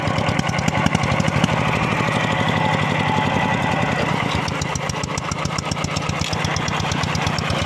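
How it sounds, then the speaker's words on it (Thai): A small, rough homemade farm truck engine chugs steadily with a loud, rattling knock, running close by without any talking over it. "เสียงเครื่องก็จะไม่ค่อยเพราะเท่าไหร่นะครับ"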